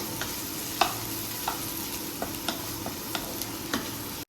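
Onion, garlic and peas fry in a pan with a steady sizzle broken by sharp clicks of a spoon stirring against the pan, no talk.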